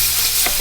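Tomato paste is being stirred into a hot pan for a Mexican vegan tofu filo pie filling, making a loud, continuous sizzle with a spoon scraping through it.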